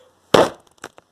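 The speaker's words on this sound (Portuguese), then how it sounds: "Nova explosão." A cartoon-style explosion bursts from a magic cauldron, one loud sharp boom fading quickly, followed by two small crackling echoes, with no talking.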